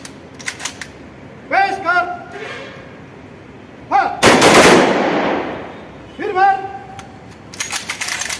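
A police armed salute at a cemetery: one loud, sharp rifle blast into the air, with shouted commands and voices rising before and after it.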